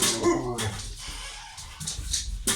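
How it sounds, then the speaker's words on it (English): German Shepherd dogs bark loudly and close by in a home, giving several sharp barks mixed with yips and whimpers. "You can't expect a German Shepherd not to bark when someone comes in"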